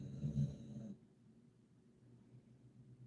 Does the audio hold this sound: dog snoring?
yes